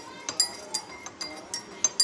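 A spoon stirs a lemon drink in a glass, giving light clinks at a steady pace of roughly three per second, close and clear over faint background.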